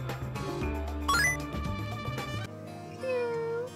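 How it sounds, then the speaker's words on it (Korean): A cat meowing, with a few rising and falling meows heard over steady tonal background music. "고양이는 미아오 거릴까?"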